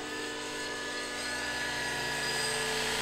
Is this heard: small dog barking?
no